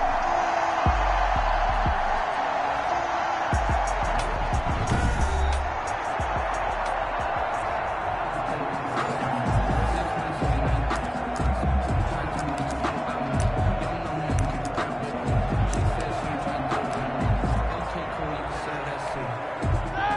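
A steady crowd roar fills a football video game featuring the Pittsburgh Steelers, loud and continuous throughout, with a commentator's voice over it.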